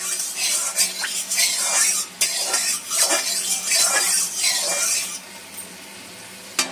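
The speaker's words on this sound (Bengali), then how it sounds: "তেলটা দিয়ে একটুখানি ভালো করে একটু নেড়ে নেবো কড়াই চারপাশে করে নেবো তেলটা ভালোভাবে" A utensil scrapes and stirs oil around a kadai in quick, continuous strokes with a light sizzle, loud and close, before falling quieter near the end.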